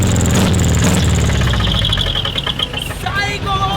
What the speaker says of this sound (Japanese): エンジンを軽く吹かすこと可能でしょうか